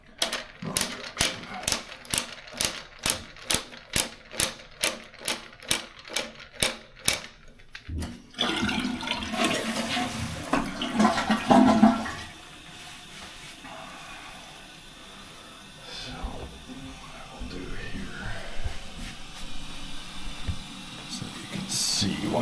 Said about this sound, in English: See once it fills back up where the water level sits.